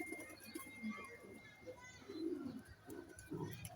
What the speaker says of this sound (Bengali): আজকে এক জোড়া সিলভার কবুতর দেখাবো।